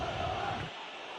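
A stadium crowd in the Football Life 25 video game roars in disapproval after a missed chance. The sustained, loud mass of voices drops off partway through and leaves a thinner hum.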